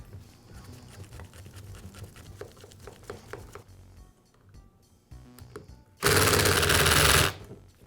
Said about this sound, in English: Then I'll use my impact to finish up.